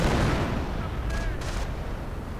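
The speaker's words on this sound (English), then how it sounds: "Howitzer getting ready to fire." In a strategy video game, a howitzer fires as distant artillery in a continuous, heavy rumbling barrage. A couple of brief higher bursts rise above the steady low roar.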